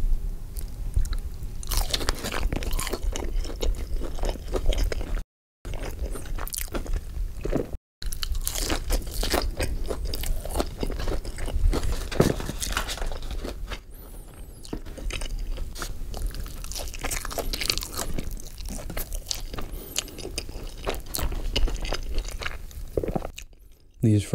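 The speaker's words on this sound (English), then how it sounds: "these fries are crispy" Crispy fries being bitten and chewed close to the mic, loud repeated crunches in an irregular rhythm, with a few brief silent gaps between bites and no talking.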